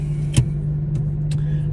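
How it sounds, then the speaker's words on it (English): 2021 Lotus Evora GT engine with the exhaust valve open, a steady low drone while driving, broken by a few brief sharp clicks or pops, close and fairly loud. "Always press the button there to open up the exhaust. Sounds really good."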